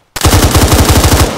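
A sharp burst of automatic gunfire in Arma 3, a close, loud rapid string of shots lasting about a second, with no talk.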